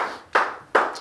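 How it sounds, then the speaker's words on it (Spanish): Congregation in a church breaking into applause, two distinct bursts of many hands clapping that rise sharply and then fade, fairly close and loud with no talking. "le damos un aplauso al Señor Jesús"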